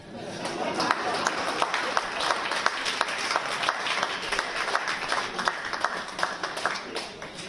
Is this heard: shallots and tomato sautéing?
no